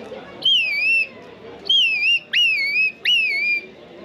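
Four long, plaintive whistled notes, each slurring down and levelling off, loud and close. A whistle imitates a plover's call at a hunting and fishing fair in Sologne, France.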